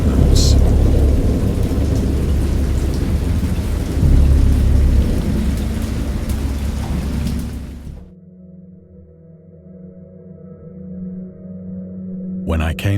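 A thunderstorm in the Dagon visual novel game roars with heavy rain and rumbling thunder for about eight seconds, then cuts to a low quiet hum with faint distant rumble.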